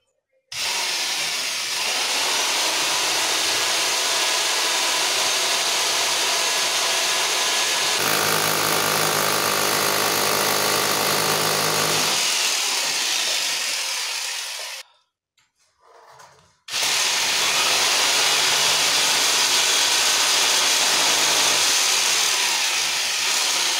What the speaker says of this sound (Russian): Стартовать в таких ситуациях желательно не на удар, а на сверление.